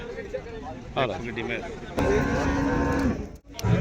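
A buffalo moos in loud, drawn-out low calls over a crowded background of people talking nearby at a livestock market in Mansa.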